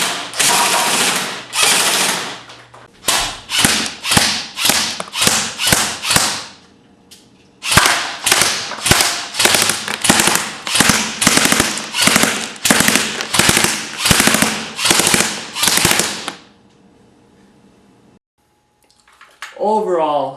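A Classic Army M15A4 airsoft rifle fires fully automatic in loud, rapid bursts: a short burst, a run of quick bursts, then a long sustained string of shots, close up, ending in near silence.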